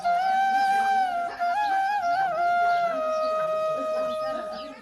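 A desi (native breed) backyard chicken clucks steadily and loudly up close, its tonal calls rising and falling for several seconds without any talking.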